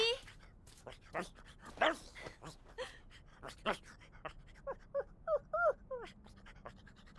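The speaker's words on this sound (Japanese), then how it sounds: "ドビーあなたはなんて元気なのもうすっかりおじいちゃんのはずなのに" An old but lively dog pants hard and energetically, a rhythmic run of quick breaths that grows stronger toward the end, with a few whimpers and a voice speaking over it.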